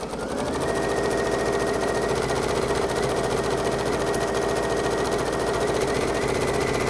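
A sewing machine runs steadily for the whole stretch, stitching a quarter-inch seam along the short sides of fabric with a fast, even mechanical chatter and hum, loud and close with no talk over it.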